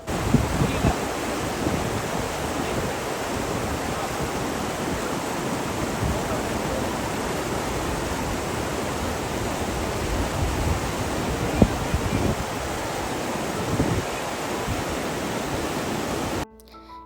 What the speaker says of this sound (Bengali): পানির শব্দ, বাতাসে উড়ে আসা মিস্ট আর চারপাশে বিশাল পাহাড়